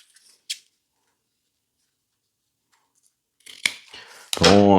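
Scissors snip along the edges of a handmade multipurpose case, giving a few crisp, close cuts that are separated by silence, with one sharp snip early and several near the end.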